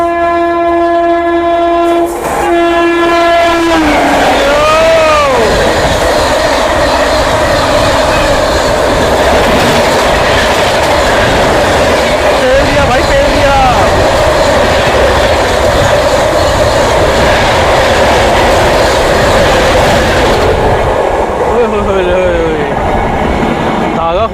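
The North East Express, an Indian passenger train at speed, sounds its horn in long blasts, then runs on with loud, steady rumbling and clatter of wheels on rails, with more horn calls and Doppler shifts as other trains pass.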